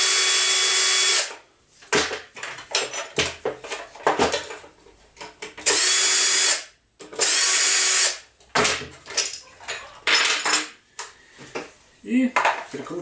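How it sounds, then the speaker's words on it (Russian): A power driver fitted with a 5 mm hex bit unscrews the mount on a new string trimmer in several loud whirring bursts, with quieter handling clatter and brief pauses between them. "крепление само прикручено, его надо выкрутить. У меня используем шестигранник на 5."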